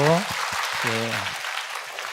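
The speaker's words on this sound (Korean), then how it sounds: "다시 한번 우리가 하나님과 우리 모든 성도들에게 격려의 박수 한번 드리고" A church congregation claps in encouragement during a Wednesday daytime worship service at Yeouido Baptist Church. The steady, full-room applause is briefly overlapped by a speaking voice near the start.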